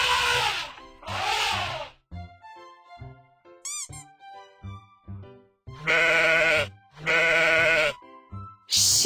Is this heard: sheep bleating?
yes